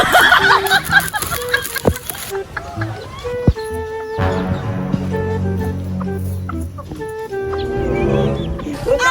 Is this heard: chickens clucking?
yes